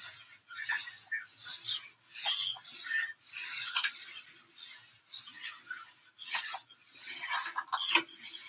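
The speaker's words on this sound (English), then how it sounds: "I'm kind of rubbing that polyurethane in there." A cloth rag rubbing polyurethane wood stain into a wooden surface during a van build, giving repeated soft rasping strokes in uneven bursts, close and fairly quiet, with no talking.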